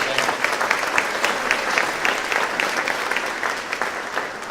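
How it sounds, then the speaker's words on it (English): Steady applause from an audience at a legislative chamber mixer, honouring a city council and mayor, dense and even throughout with no voices standing out. "if you'll please applaud for them"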